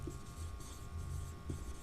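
Faint scratchy strokes of writing on a classroom board during a biology lecture, a soft continuous rubbing texture with slight swells, quiet and steady under background noise.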